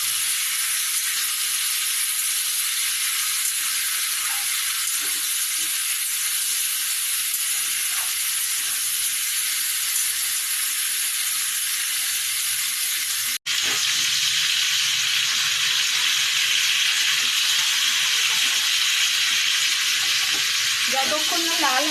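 Gathi kochu, or taro, fries in oil with salt and turmeric, giving a steady loud sizzle and hiss that runs throughout, briefly broken by a sharp pause before resuming, with faint stirring scrapes.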